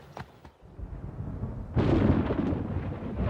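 Thunder rolls in as storm clouds mass over Botswana at the end of the dry season, with a couple of faint distant rumbles and then a loud, sustained roar that keeps going without a break.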